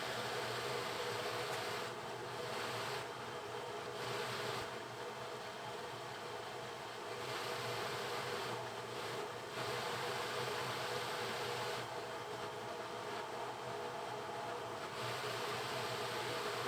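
A home workshop dust extraction system runs steadily throughout, giving a constant, fairly quiet broadband rush of moving air with a low hum and small dips in level.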